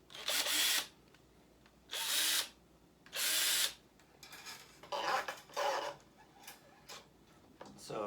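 A power drill bores into a homemade horror sound-effects instrument in three loud, sustained bursts with pauses between them, followed by quieter clicking and handling noises.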